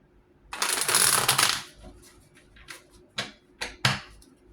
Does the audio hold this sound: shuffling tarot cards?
yes